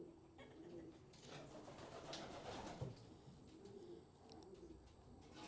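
Soft, low cooing of racing pigeons in a loft murmurs alongside faint chirps and background rustle, with no voices.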